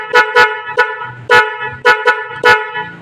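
Aftermarket Piaa horn fitted to a Suzuki Rider motorcycle honking in a run of about six short, loud, near blasts with uneven spacing and brief gaps between them.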